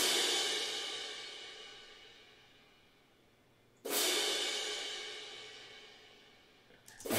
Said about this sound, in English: you can hear how now it sounds like this person is hitting the cymbals differently